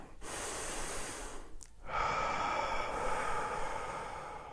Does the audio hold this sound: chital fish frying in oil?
no